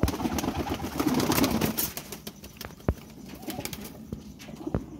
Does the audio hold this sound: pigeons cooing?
yes